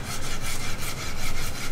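Hand sanding a wooden guitar neck with 100 or 120 grit sandpaper: quick, rhythmic back-and-forth rasping strokes, close and loud, in a steady repeating pattern.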